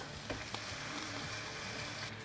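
Pork chops sizzling on a Ninja Foodi Smart XL Grill, a steady moderate hiss with two brief clicks early on as they are turned, no speech.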